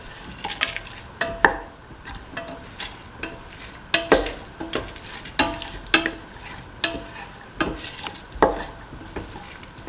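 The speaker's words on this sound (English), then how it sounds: "mix that a bit." A potato and split chickpea mixture stirred in a pan on the heat, with repeated scraping strokes and light clatters of the spoon at an irregular rhythm over a soft sizzle, close and without talk.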